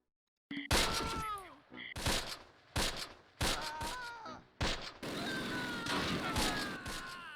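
Gunfire in the World War II strategy game Close Combat: Panthers in the Fog, loud sharp bursts and volleys repeating in clusters, with a sustained stretch of continuous firing near the end.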